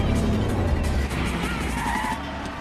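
Cars launching a street race in Fast and Furious, a dense, loud engine roar with rising revs and a hint of tire squeal, sustained throughout with no talk.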